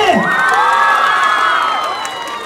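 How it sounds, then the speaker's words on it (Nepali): Large crowd at an outdoor stage show cheering and whooping loudly for a singer, a dense, sustained roar of shouts with children's yells and some clapping mixed in. "उहाँको लागि एकचोटि जोरदार ताली"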